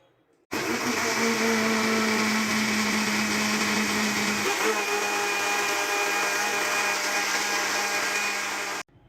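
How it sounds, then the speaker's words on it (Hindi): An electric blender whirs loudly on mango dessert ingredients mixed with milk. The motor starts abruptly, runs steadily for about eight seconds with a slight shift in pitch midway, then cuts off, with no speech. "अब इन सारी चीज़ों को मैं ज़रा अच्छी तरह से ब्लेंड करूँगी।"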